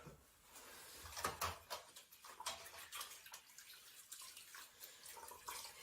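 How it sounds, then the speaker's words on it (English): A tap runs while hands are washed in a kitchen sink, a steady close splashing of water with small irregular drips and splashes throughout, no talking. "Quick hand wash again."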